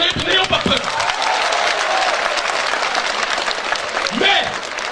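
Audience applause at a public speech in Niamey, a dense sustained clapping crowd with some cheering, fairly loud and steady throughout, with brief voice fragments at the start and near the end.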